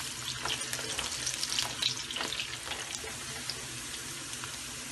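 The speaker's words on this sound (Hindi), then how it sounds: "प्याज डाल देंगे, इसको गोल्डन नहीं करना हमने" Onions frying in hot oil, a crackling, bubbling hiss with stirring and spattering bursts, moderately loud and steady, with no talking.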